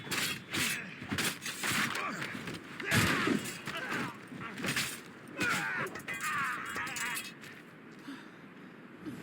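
Shots ring out in Assassin's Creed Rogue as a ragged volley of cracks and bangs, mixed with shouting voices and combat clatter at moderate loudness.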